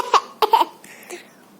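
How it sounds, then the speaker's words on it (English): A voice gives a few quick coughs in short bursts, close and fairly loud, with softer vocal sounds trailing after. "Baby whale has got a cough."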